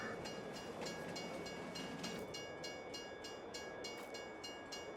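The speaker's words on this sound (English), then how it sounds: "The train, like, just stopped randomly." Train from the Farming Simulator 22 game on the Elm Creek map, rumbling steadily with rhythmic clacking and a faint sustained whistle-like tone, moderately quiet and with no talking.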